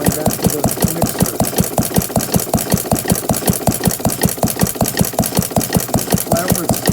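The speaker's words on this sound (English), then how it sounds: "However, it's a modern engine." A modern flame-powered engine with a flyball governor runs steadily, its rapid even rhythmic chugging close and continuous throughout.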